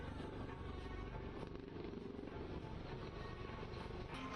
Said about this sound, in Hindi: जब चारों हेलीकॉप्टर एक सीधी कतार में होकर एक दूसरे को सफाई से क्रॉस कर गए